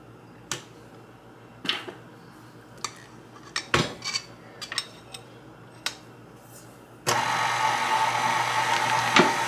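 Scattered clinks of metal utensils and dishes give way to a stand mixer starting up with a loud, steady whir as it kneads brioche dough.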